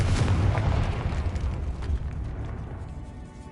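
A Confringo blasting spell goes off in Hogwarts Legacy, a loud booming explosion at the start that rumbles and slowly fades over a few seconds.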